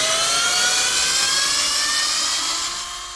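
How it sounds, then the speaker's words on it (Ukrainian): A LEADER cordless drill-driver drives screws at high speed, giving a loud, close, continuous whine that holds for about three seconds and then eases down as the screw seats. "Дивіться, як заганяє гвинти. Да, він скажений."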